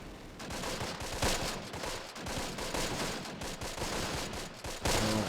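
Sustained gunfire in the wartime tactics game Close Combat, a dense rattling stream of rapid shots at moderate level with no pauses.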